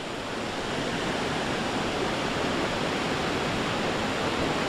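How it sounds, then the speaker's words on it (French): A small waterfall and a rushing mountain torrent make a steady, loud broadband roar of water that fades up at the start, then holds constant with no voices. "Petite cascade là. Torrent qui dévale."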